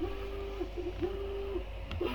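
A Sovol SV06 Plus 3D printer, several hours into use with grease built up, runs quietly: soft stepper-motor whines rise and pause in short repeating strokes over a low steady hum.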